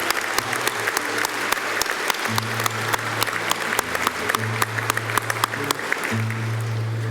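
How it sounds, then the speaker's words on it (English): Audience applause fills a graduation ceremony hall at CÉGEP Heritage College for Social Science Commerce graduates, with dense, steady clapping running the whole time at a moderate level while a low sustained tone hums underneath. "Please applaud our Social Science Commerce profile graduates."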